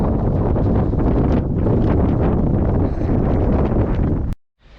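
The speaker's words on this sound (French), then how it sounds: "Un peu de vent, hein." Strong wind buffeting the microphone during a mountain ultra-trail race in Istria, a steady, roaring rush that cuts off abruptly into silence just before the end.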